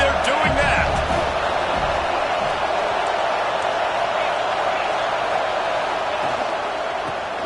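A stadium crowd in a Madden/NCAA football video game roars steadily as a broad, continuous wash of cheering, with a commentator's voice over it early on.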